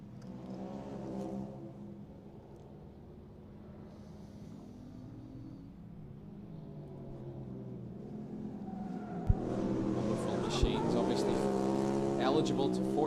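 A junior rallycross car on the Mondello Park track brakes hard and drops three gears for a corner, its engine note stepping down through rising and falling revs, loud and close, with a commentator talking over it.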